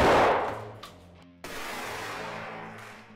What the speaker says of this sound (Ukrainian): Знову постріл нульовкою, але додаємо балістичні окуляри